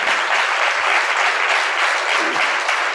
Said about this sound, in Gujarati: એટલે આ તાળી તો વગાડો.